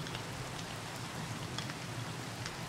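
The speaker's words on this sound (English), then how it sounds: "You see the rain bounce off the glass?" Rain bounces off glass in a steady, even patter, a continuous hiss of droplets with scattered sharper taps and no voices.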